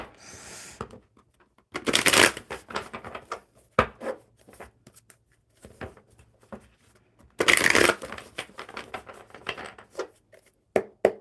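Tarot cards are shuffled in several crisp riffling bursts, with softer taps and handling sounds between them, close and clear.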